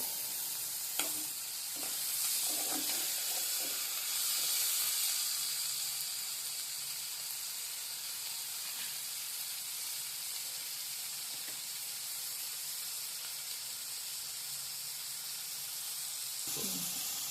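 Tomatoes with salt and turmeric cook in a pan for a Maharashtrian matki dish, giving a steady soft sizzle and hiss with a few faint scrapes of stirring near the start and end.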